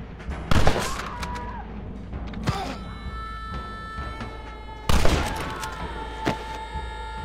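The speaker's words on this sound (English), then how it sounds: "Quit shooting me." Gunfire in the video game Red Dead Redemption: two loud, sharp shot bursts with ringing tails, a lighter crack between them and another after, with faint voices underneath.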